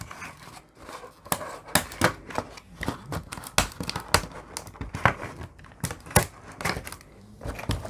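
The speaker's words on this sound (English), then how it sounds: "I'm gonna have to cut the stand out" Scissors snipping through plastic packaging to free a McFarlane Toys Mortal Kombat action figure stand, a run of sharp close cuts mixed with crinkling plastic, irregular and fairly quiet.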